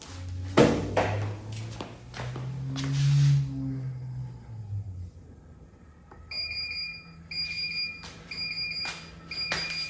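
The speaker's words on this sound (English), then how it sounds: "I'm getting an alarm coming on because there's no water in it." Low-water alarm on an AccTek AKQ-1500 1500W laser rust remover: sharp repeated electronic beeps in short bursts, following a few thuds and a low mechanical hum from the newly powered unit.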